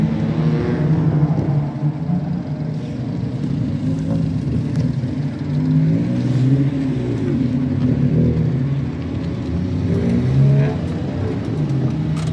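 A small 660cc five-speed car weighing 650 kg drives and accelerates, its engine making a steady, loud interior drone and rumble that rises and falls slightly with the revs, with no talk over it.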